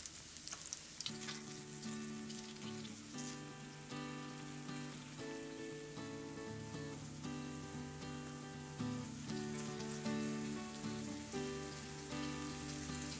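Golden-browning food frying steadily in a hot pan after being flipped, a soft, even sizzle that continues without a break, faint and alone.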